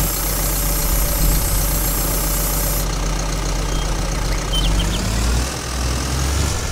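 A Sonalika 60 DI tractor engine in Farming Simulator 22 idles with a loud, steady low rumble and hum, continuous throughout without speech.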